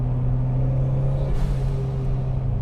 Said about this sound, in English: that is my favorite part about the SW20, or any MR2 for that matter, is the turbo spooling behind my ear